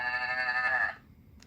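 A children's electronic toy plays a short recorded alpaca call, a single bleating, reedy tone lasting about a second before cutting to near silence, faint and slightly tinny.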